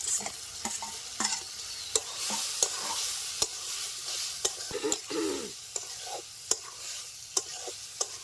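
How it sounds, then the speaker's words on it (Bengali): Okra tossed into a hot pan of spices for a Bengali curry, sizzling steadily while a spoon scrapes and clacks against the pan in sharp, irregular strikes, close and clear with no talking. "এবার আমি দিয়ে দিব ভেন্ডিগুলি"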